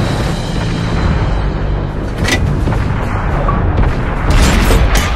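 Tank shells strike and explode in the World of Tanks video game, a dense run of heavy booms and rumbling impacts with sharp cracks, loud and close throughout.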